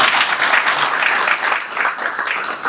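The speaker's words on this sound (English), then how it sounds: "So why are you not giving me a round of applause?" An audience at a government event claps together, a dense burst of applause for a few seconds, loud and close, with no voices over it.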